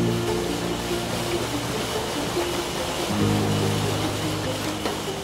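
Steady broadband rush of a waterfall in the Peruvian jungle, constant and fairly loud with no pauses, with faint low hum under the flow.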